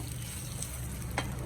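Spice powders tipped into hot coconut oil for a prawn and shallot theeyal give a steady, soft sizzle and frying hiss with a faint stir or scrape near the end.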